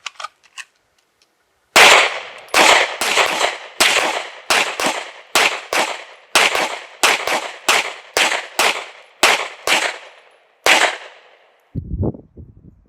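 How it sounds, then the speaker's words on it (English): Rapid series of about fifteen sharp pistol shots on a shooting range during a timed drill, loud and close, fired in an uneven quick rhythm after a pause, followed by a faint low thump. "Shooters, make your pistols ready to shoot."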